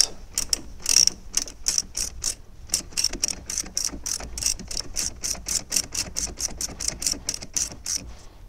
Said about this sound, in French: Donc là, on va tout simplement resserrer notre vis.